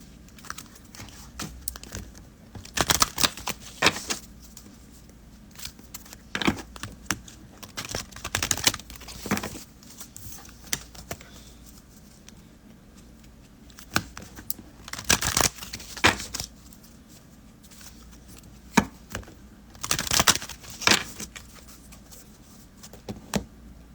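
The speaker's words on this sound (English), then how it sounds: "So I'm going to shuffle these." Tarot and oracle cards being shuffled by hand, giving repeated bursts of riffling and slapping in uneven clusters with short pauses between, close and fairly quiet.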